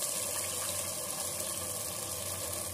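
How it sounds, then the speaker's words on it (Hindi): Steady rush of water poured from a tap onto samak rice in a pot for vrat pulao, loud and continuous without a break, with no voices. "समा के चावल पानी भी बहुत लेते हैं, सोखते हैं, इसलिए हम इसमें दुगना पानी डालेंगे।"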